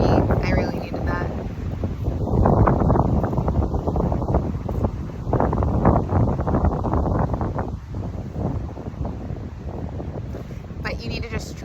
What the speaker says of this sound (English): the wind is hugging me, I really needed that.